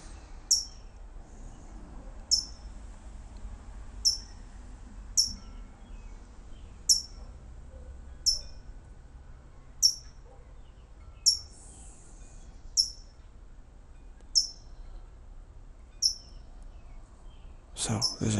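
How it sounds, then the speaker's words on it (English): A small bird scolding a cat gives sharp, high chirps at a steady rhythm, roughly one every second or so, fairly distant and moderately faint over a low ambient hum. "This bird is scolding the cat."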